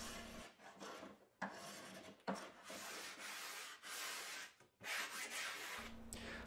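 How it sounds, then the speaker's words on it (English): A wooden template's curve is smoothed at a workbench with a spokeshave and sanding block, giving close, dry rasping strokes in uneven bursts separated by brief pauses, with no talking. "I then smoothed and fared the curve of the templates at the bench using a spoke shave and a sanding block"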